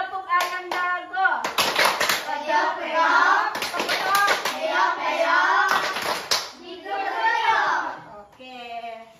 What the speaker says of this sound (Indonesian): Tepuk ayam jago terakhir sebelum pulang.